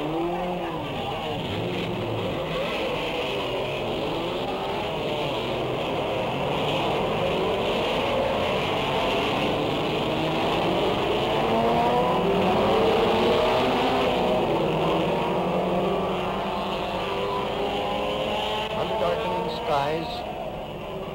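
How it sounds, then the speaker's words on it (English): Dozens of race car engines start up together in a Le Mans-style start at the 1962 Nassau Trophy race, a dense, sustained roar of many motors with shifting revs and a voice talking over it. "Now to start the motors, watch."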